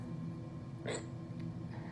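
One short hiccup bursts out once in the middle, close and sudden, against a low steady room hum with no talking.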